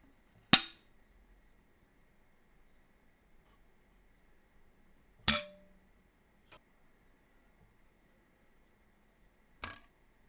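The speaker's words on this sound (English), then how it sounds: "hear the difference in audio of the 3 different stiffnesses of clickers" Three crisp metallic snaps from carbon archery clickers of three different stiffnesses, several seconds apart in near silence, each short and bright, sounding slightly different from one another.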